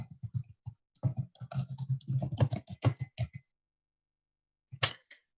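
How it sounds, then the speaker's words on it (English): Someone types a comment on a computer keyboard in a close, clattering run of keystrokes lasting about three seconds, then silence broken by one final louder tap. "But I guess I'll type something."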